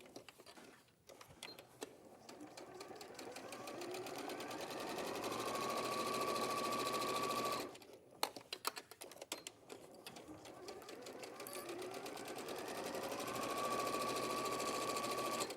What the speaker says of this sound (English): So just using a 1/4 inch seam allowance, I'm just sewing around all 4 raw edges.